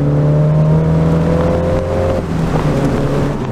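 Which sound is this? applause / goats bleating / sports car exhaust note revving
sports car exhaust note revving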